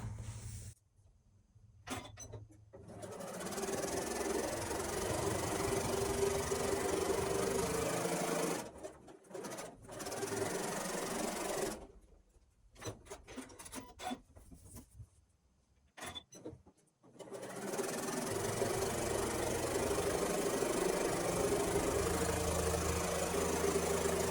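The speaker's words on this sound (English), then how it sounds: "So now that I've sewn on either side of that line" A sewing machine stitches quilt pieces for a mini quilt, running a quarter inch either side of a drawn line. It makes a steady motor whir in three long runs, separated by brief quiet pauses, with no talking.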